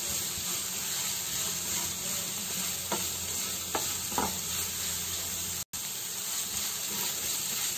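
Vegetables for spring roll filling stir-fry in a pan, giving a steady, loud sizzle and hiss throughout, broken by a few brief scrapes of stirring and no talk.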